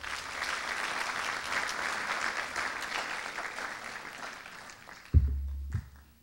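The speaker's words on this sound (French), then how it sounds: "À vous de vous applaudir, mesdames," Conference audience at a Model United Nations opening ceremony applauding in a sustained, dense wash that slowly fades, followed by a sharp low thump near the end.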